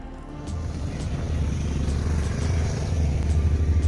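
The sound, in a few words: vehicle engine while driving, helmet on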